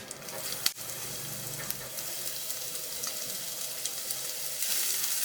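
Raw papaya pieces dropped into hot coconut oil already tempered with mustard seeds, dried red chillies and curry leaves for a Kerala thoran, giving a steady broad sizzle and frying crackle that swells near the end, with no talk.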